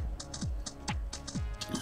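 Keys clack on a computer keyboard as a command is typed, several quick separate strokes in a loose rhythm, close and clear with no voices.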